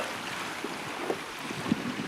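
Strong wind blows across open sea around a boat, a constant loud rushing roar with faint thumps of water and hull, no voices.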